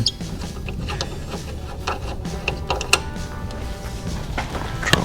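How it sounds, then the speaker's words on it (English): Screws being worked loose on a Jeep, a close run of small ratcheting clicks and metallic ticks from hand tools, irregular and busy, with no voices. "Take these screws out up here."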